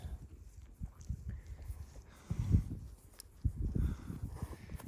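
Hooves clop on a dirt trail in an uneven walking rhythm, nearby and moderately loud, with some rustling around them.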